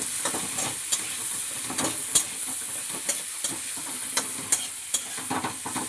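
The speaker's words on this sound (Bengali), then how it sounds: "হলুদ গুঁড়ো লঙ্কা গুঁড়ো এবং জিরে গুঁড়ো এটা একসাথে এবারে ভাজা হবে" Ground turmeric, chili and cumin powder fry together in a pan for a fish and broccoli curry, with a steady close sizzle and repeated scraping stirs of the spoon, no talk.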